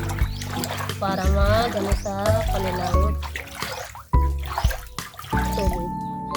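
Water is poured and swirled into a tub holding hito catfish fingerlings, with green colouring mixed in, a soft splashing and trickling that stays under steady close-up talking throughout.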